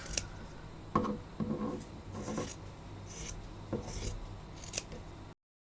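Scissors cut through fabric from upcycled clothing being turned into yarn, giving a series of close, raspy snips and rubbing strokes at an uneven pace, fairly quiet and with no talking.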